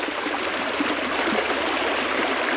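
Water flows steadily in a creek during gold panning, a continuous close, bright rushing and trickling with no voices.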